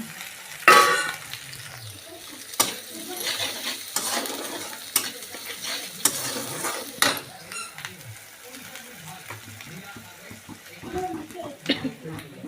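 Eggplant curry is roasted in oil in a pan and stirred, giving repeated scraping and clinking strokes over a low sizzle, with a person talking at intervals.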